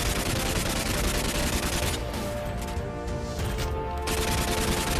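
Rapid gunfire in the Free Fire video game rattles out as a dense, continuous burst of shots, loud and unbroken apart from a brief dip midway.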